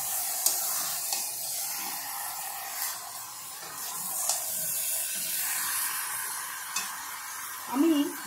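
Grated raw mango stirred into chicken in a pan for kasundi mango chicken: a steady soft sizzle with a few scraping stir strokes and one louder clatter near the end, no voices.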